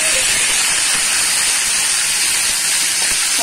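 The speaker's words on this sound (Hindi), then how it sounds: "जो ऑलरेडी ये हमने पका के फिर हम फ्राई कर रहे हैं" Precooked beef chops fry in hot oil in a kadhai, a loud, dense, continuous hiss and crackle close by, with no speech.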